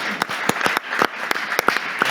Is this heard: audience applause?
yes